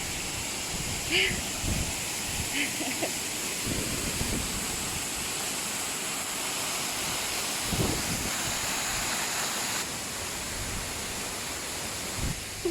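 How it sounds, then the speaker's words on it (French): A waterfall cascades beside a path on a walk in Nice, giving off a steady broadband rush of falling water that stays close and even throughout, with occasional brief rustles and footstep-like knocks. "On va passer par la cascade qui est la clim naturelle."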